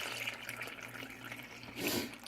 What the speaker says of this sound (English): the next thing I want to do is pour the rest of my milk in